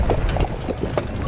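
Horse hooves clip-clop steadily on Mackinac Island, a quick close rhythm of shod hoofbeats over a constant low rumble of street noise, with no voices.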